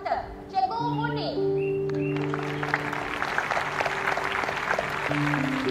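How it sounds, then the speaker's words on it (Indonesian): A classroom of children claps for their new history teacher, a dense spread of applause sitting under sustained musical tones and carrying on steadily for several seconds. "Beri tepukan kepada cikgu sejarah baru kita, Cikgu Muni."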